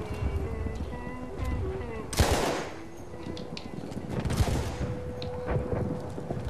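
Gunfire in the first-person shooter game Battlefield 1 comes as two heavy bursts of shots and booms a couple of seconds apart, over a low rumbling battlefield backdrop.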